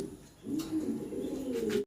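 A male American Lakha fancy pigeon coos close by, giving one soft, rolling throaty phrase that swells and repeats for about a second and a half against a quiet background.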